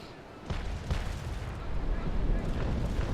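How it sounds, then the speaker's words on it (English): Cannon fire exchanged between dueling frigates in a Naval Action sea battle: low booming blasts and rumbling over a dense, roaring wash of wind and sea, growing heavier toward the end, with a voice talking over it. "He is firing up my stern."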